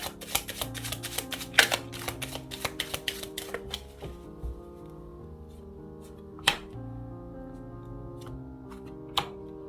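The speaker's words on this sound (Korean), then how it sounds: "여러분의 카드도 좀 뽑아볼게요." Tarot cards being shuffled and drawn during a love reading, a dense run of quick papery flicks and taps over background music, thinning after a few seconds into occasional isolated snaps.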